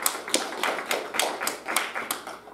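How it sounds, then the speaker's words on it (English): A church congregation claps in praise, producing a sharp, rhythmic run of about eight distinct claps in a steady beat, fairly close and loud with no talking. "Can we give God a hand clap of praise?"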